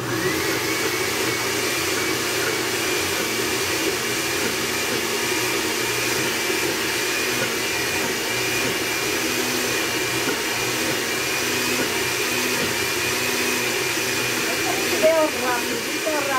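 A steady, loud whirring of an electric mixer whipping homemade mayonnaise, running continuously without pause, with a faint voice underneath.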